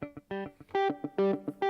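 Clean synth jazz guitar tones from a Roland MC-505 play short, separate notes and chords in an uneven rhythm, bright and clear with no distortion or effects.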